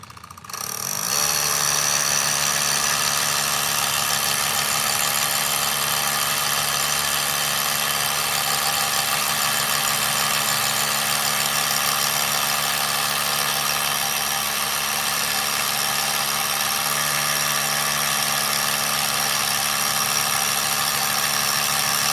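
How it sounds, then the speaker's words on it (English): A power drill bores anchor holes for a pool safety cover, running as a steady, continuous whine with a droning motor tone held for a long stretch, loud and close, with no talk. "I'm just gonna proceed to drill them all in real quick"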